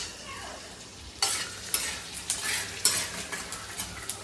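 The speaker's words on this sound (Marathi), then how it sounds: "हे बघा आता मी डिंक तळून घेते." Edible gum (dink) frying in ghee, a steady crackling sizzle with stirring scrapes and utensil clinks that grow louder after a quiet start.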